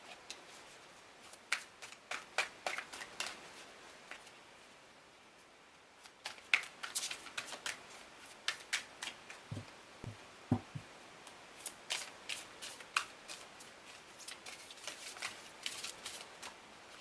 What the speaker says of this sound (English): Cards are just slightly too big. I have a bit of trouble shuffling them.